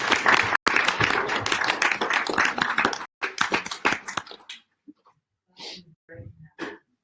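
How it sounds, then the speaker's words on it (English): Group hand clapping in a meditation class bursts out briskly for several seconds, stops abruptly, then gives way to near-quiet with a few scattered soft sounds and breaths. "Clapping, banging our palms together for the sake of that."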